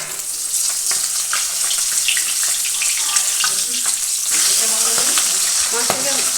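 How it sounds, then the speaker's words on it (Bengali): Pabda fish frying in hot oil in a pan, a continuous close sizzle and crackle with scraping clatter as the fish is flipped over. "এক পিঠ ভালো করে ভাজা হয়ে গেছে, মাছটাকে উল্টে দেবো।"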